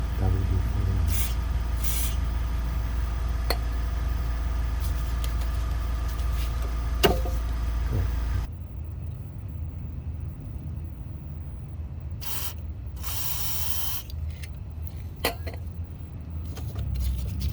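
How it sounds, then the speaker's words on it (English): WD-40 sprayed onto the rear brake parts of a BMW X5 E70 during a parking brake overhaul, heard as several short, sharp hissing bursts over a low engine-like hum that drops out halfway. "I'm just going to put a bit of WD-40"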